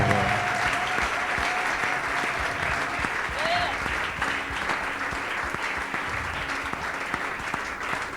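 A church congregation claps together in sustained, dense applause filling the room, with a voice and scattered cheers heard over the clapping throughout.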